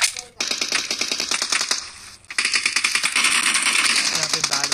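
Rapid automatic gunfire in a video game, loud and close, with a dense burst, a brief gap, then sustained rattling bursts under a layer of speech.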